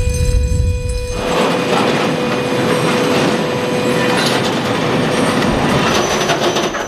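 A 17-wagon freight train loaded with maize rolls into a grain silo siding, its wheels clattering and squealing steadily and loudly throughout, with a constant tonal hum over the rail noise.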